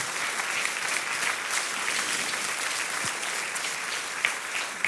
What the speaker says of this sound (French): Est-ce qu'on peut acclamer le Seigneur pour son œuvre?